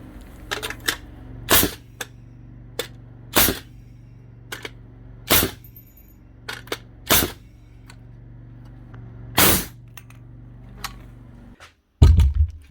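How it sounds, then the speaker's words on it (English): Compressed-air nail gun fed the wrong nails and jamming, run from a 25-litre compressor in a power tool repair workshop: about eight sharp, loud pneumatic bangs at irregular intervals over a steady low compressor hum, then a final thud. "Right, that's actually firing. It's just these are the wrong nails, they're jamming her up."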